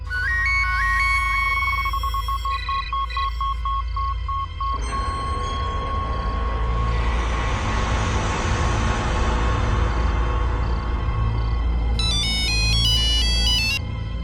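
A phone ringtone plays loudly and continuously: first a repeating electronic melody of quick tones, then a fuller musical stretch with heavy bass, ending in bright chiming beeps, with no voices.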